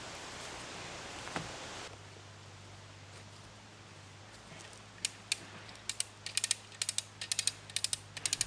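Winch and locking pulley rigged for felling a tree against its lean, taking up rope slack: a steady low hum, then bursts of sharp ratcheting clicks that quicken and grow louder toward the end.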